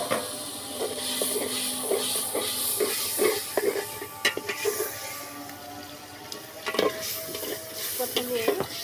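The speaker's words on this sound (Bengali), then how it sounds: "প্রথমে এই মুরগির চামড়ার পাখনাগুলো খুব ভালো করে কষে নিতে হবে, ভাজা ভাজা করে" Chicken skin and wings sizzle and spit in hot oil while a spatula scrapes and clacks against the pan in irregular strokes, close and fairly loud, with no one talking.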